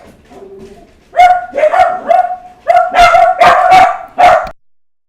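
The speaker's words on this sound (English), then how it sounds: "I think you guys have heard enough of the dogs." Dogs bark repeatedly in short, loud bursts, close by, with a few brief whines between the barks.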